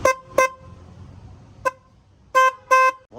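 Aftermarket horn on a 2024 KTM 390 Adventure motorcycle blares in five short, loud honks: two quick toots, a lone blip, then two longer blasts close together, with no talk over them.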